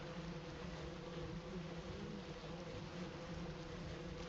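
Bees buzz steadily around a beehive in the Valheim video game, a continuous, even drone with no speech over it.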